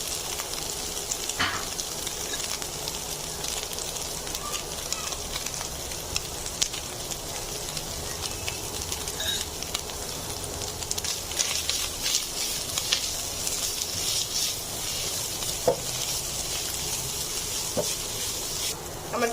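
Chicken pieces boiled with salt, ginger and garlic, dusted with black pepper, sizzle steadily in a pan while being stirred, with scraping clicks and bright hissing throughout.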